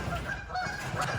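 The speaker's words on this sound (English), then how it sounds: "while that crazy goose fight is going on, I hope you can hear me over all that stuff" Geese honk harshly and repeatedly during a goose fight, close and loud in a brief, continuous burst of squabbling calls.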